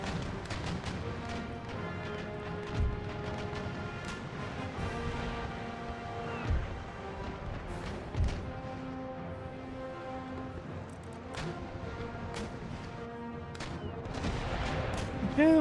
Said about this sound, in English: Now you chaps just park up and start shooting.